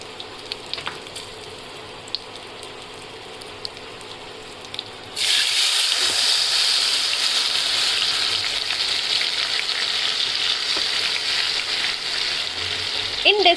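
Mustard sauce poured into chilies frying in hot oil for a Bengali mustard hilsa curry sets off a sudden loud burst of sizzling that continues strongly after a quieter stretch of gentle frying.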